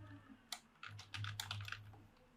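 Fingers tap quickly on a computer keyboard while credentials are entered, a soft, close clatter of uneven keystrokes over a low steady hum.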